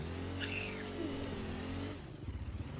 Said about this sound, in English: I just hijacked his car.